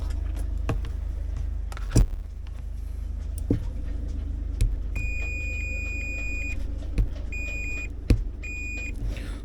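A 55-year-old sailboat's engine control gives repeated steady electronic beeps, two longer tones then shorter ones, over a constant low engine or fan hum with occasional clicks.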